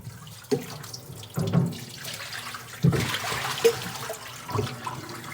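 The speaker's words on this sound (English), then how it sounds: "Rinse them off and get some of those seeds out." Running water rinsing a sprout salad mix of broccoli, alfalfa, radish and clover in a sink, an uneven splashing trickle with several soft thumps and sloshes, close and without speech.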